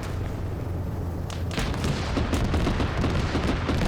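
A BMP armored vehicle fires its weapon in a military video game, a sharp burst of booming, crackling gunfire breaking in about a third of the way through and continuing as a dense, rumbling barrage over steady background noise.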